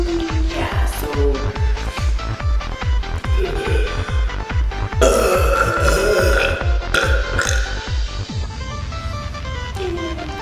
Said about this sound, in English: we can burp loud and proud